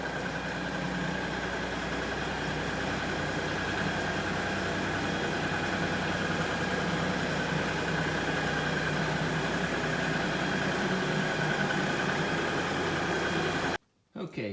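An LS XR3135 tractor engine idles steadily while warming up, a close, continuous mid-low rumble that runs evenly until a brief cut near the end.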